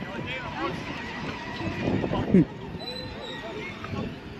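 A horse whinnies briefly amid background chatter and outdoor bustle in Monastir, Tunisia, with people talking nearby.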